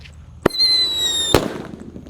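A Happy Power 3 firecracker goes off buried inside the ground, giving two sharp loud bangs less than a second apart with a bright whistling tone ringing between them, then fading into low rumble.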